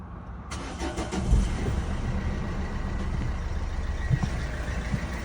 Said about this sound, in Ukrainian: Зараз машинка ось ми заведемо її